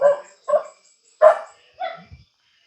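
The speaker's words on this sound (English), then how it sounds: "It wouldn't be the Philippines without a dog barking in the video." A dog barks four times in short, sharp bursts spaced about half a second apart, fairly close and clear, with no talking, in the Philippines.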